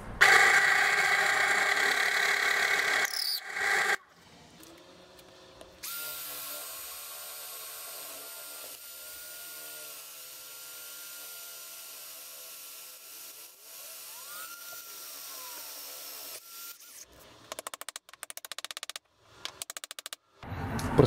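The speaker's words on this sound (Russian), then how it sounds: "Теперь с обратной стороны просверлю навстречу" Drill boring through wood from the reverse side, a steady whine running for several seconds at moderate level, with louder bursts at the start and clattering handling noises toward the end.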